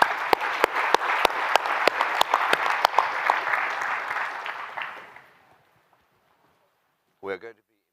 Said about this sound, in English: So a round of applause to all the panel.